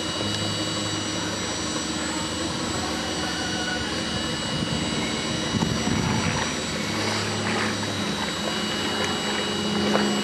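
Pump running during a pool closing, pushing water out through a universal wall fitting, a loud continuous mechanical roar with a steady hum that stays constant throughout, with no voices.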